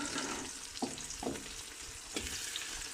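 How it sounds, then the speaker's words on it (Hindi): Ginger garlic paste frying in hot oil with onions in a pan: a constant close sizzle broken by a few sharp clinks and scrapes of a stirring spoon. "अब इसको अच्छे से, जैसे हमने प्याज फ्राई की थी ऐसे ही इसको 2 से 3 मिनट के लिए हम फ्राई करेंगे"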